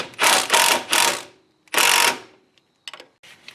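Wrench and socket tightening the strut nut on a 1993-2002 Firebird Trans Am front strut, heard as several loud bursts of ratcheting close by, separated by short pauses and ending in a few faint clicks.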